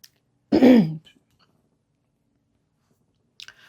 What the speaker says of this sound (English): Sorry guys for clearing my throat.